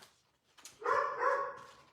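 A dog indoors gives a single drawn-out bark or yowl, fairly close and moderately loud, after a brief quiet lead-in, with no talking over it.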